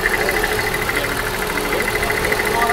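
A car engine idles with a busy mechanical tick from the fuel injectors, a steady close clatter with no talk.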